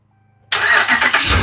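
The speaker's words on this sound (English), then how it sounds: "and then the truck starts by itself" Pickup truck engine starting on its own via an aftermarket remote start: near silence, then an abrupt crank and catch into a loud, steady running idle.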